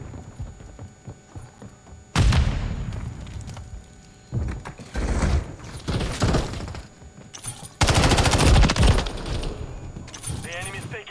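Modern Warfare 3 gunfire and a grenade blast during a 6v6 online match, loud bursts of rapid automatic fire with heavy booming impacts, close and intense, set against quieter stretches of ambient game noise.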